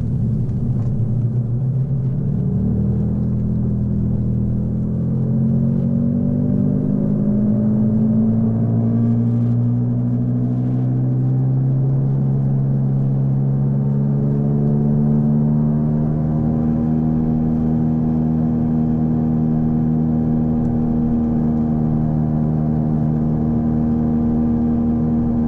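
An Audi B5 S4 on the road with a loud drivetrain fault, giving a steady low rumbling drone that rises and falls in pitch as the engine and driveline speed up and slow, continuous and close with no talking.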